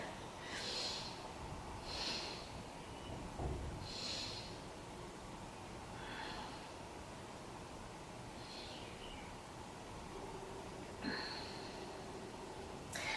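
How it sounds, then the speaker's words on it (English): Slow, deep belly breaths during a beginner yoga session for posture, each long airy inhale and exhale repeating at an even pace over a low steady background, fairly quiet and close. "let's take 3 nice big breaths down to the belly"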